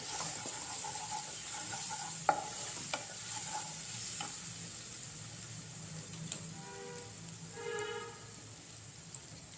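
Spinach and onion curry frying in a pan while a utensil stirs it, a steady sizzle beneath a few sharp scrapes and taps, then a brief bubbling hiss, all close and moderately loud with no voices.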